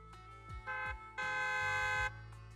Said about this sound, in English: loud honk echoes as several trucks with leaps and bounds